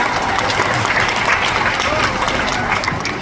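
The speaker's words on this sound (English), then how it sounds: "So a bit of a round of applause there for Adira" Steady clapping from an audience at a tiger presentation at Dreamworld, Australia, with crowd murmur and some voices mixed into the applause throughout.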